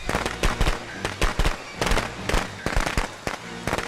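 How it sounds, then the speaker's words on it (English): Firecrackers set off in the Friday the 13th video game, a rapid irregular string of sharp cracking pops, loud and close, with no talking. "I threw those firecrackers down on instinct."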